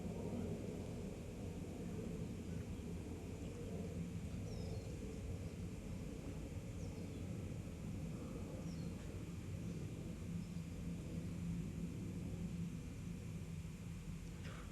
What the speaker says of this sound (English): We'll wait for the aeroplane to go by.